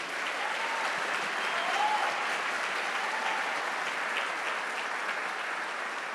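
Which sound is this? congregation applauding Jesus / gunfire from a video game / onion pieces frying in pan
congregation applauding Jesus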